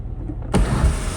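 Car sunroof motor starts up abruptly after a quiet moment, its electric whir and rushing air loud and steady for the last half-second.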